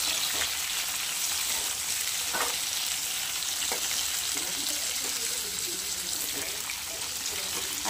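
Mustard seeds for a raw tomato chutney sizzle in hot oil with a steady, dense frying hiss and a few faint pops, heard alone throughout.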